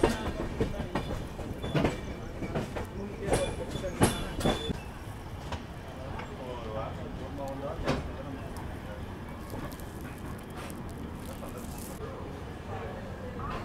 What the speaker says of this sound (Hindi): अभी हमारी ट्रेन कुछ ही देर में कटनी जंक्शन रेलवे स्टेशन पहुँचने वाली है।